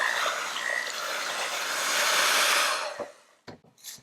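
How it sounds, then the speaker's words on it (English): Egg being mixed into chocolate Bundt cake batter in a bowl, giving a steady, fairly loud whirring hiss that runs close and continuous for about three seconds, then stops, leaving a few short clatters. "Now I'm going to mix this egg through and then add in the second one."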